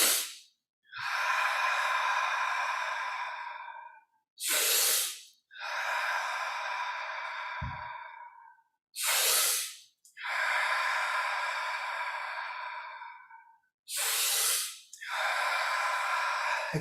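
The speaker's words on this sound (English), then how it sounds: "Expanding your lungs and chest all the way. Breathing deeply." A person does an intense deep breathing exercise, with long, forceful hissing inhales and exhales in a steady cycle of about four to five seconds each, close and loud with short silences between breaths.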